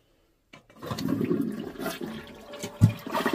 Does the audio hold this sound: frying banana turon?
no